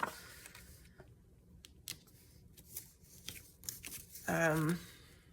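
Scissors snip through paper pieces for a junk journal in a few quiet, separate cuts at close range, with light handling rustle and a brief voice near the end.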